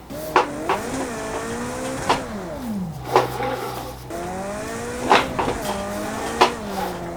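Tires squeal in long, wavering handbrake skids over and over in a racing video game played on a Logitech G920 wheel, mixed with road car engine noise.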